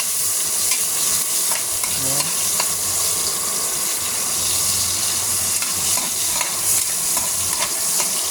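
Tomato and onion are stirred in a sizzling pan, with scraping utensil strokes over a continuous loud frying hiss for several seconds and no voices.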